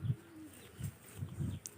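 A large-bodied tomprang pigeon coos in a low, soft rhythm: about four muffled coos, evenly spaced and close by, with no other sounds around them.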